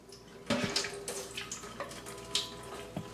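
Water is poured out of a countertop water filter housing into a sink, with a quiet splash followed by several short, uneven spills and drips.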